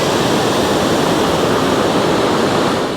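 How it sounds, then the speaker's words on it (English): Waterfall at Simpson Lake Park, seen through trees on a wooded trail, pours as a steady, loud, broadband rush of falling water that fills the whole stretch without a break, with no voices over it. "I can see the waterfall through the trees there"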